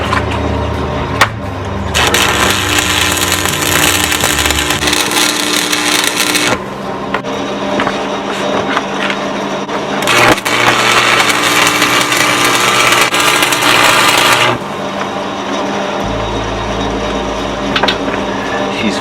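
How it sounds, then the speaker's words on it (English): Arc welding on a loader being fitted to a Massey Ferguson 50 tractor, a steady loud crackling buzz in long continuous bursts with brief pauses between beads, close by and with no talk. "We're going to do one more weld down and across the bottom."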